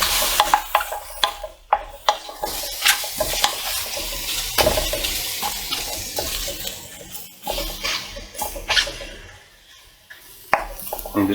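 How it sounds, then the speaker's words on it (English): Garlic and courgettes are stirred around a hot pan, with repeated scraping and clacking strokes over a steady sizzle, close and fairly loud, with brief pauses between the movements. "So garlic's in, let's give that a good stir around."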